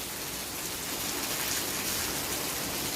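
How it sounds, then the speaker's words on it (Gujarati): Heavy afternoon rain pours down in a dense, unbroken hiss that holds at an even level throughout, with no voices or other sounds. "અત્યારે હવે ફૂલ ચાલુ થયો છે"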